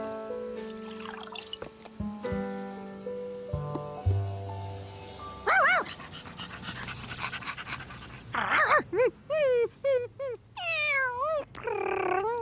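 Cartoon dogs whimper and pant in a lively, close animated soundtrack, with a cat meowing, pouring liquid and bright music threaded through in bursts.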